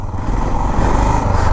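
Motorcycle engine running loud and close, its drone rising steadily as the rider shifts from first into second gear, with no clear break between the gears.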